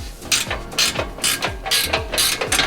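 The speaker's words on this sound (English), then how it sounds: "Then now I'm gonna tighten the two band clamps." Ratchet tightening band clamps on a BMW exhaust Y pipe, close and crisp rhythmic clicking strokes, about five even back-and-forth pulls with a metallic ratcheting buzz on each.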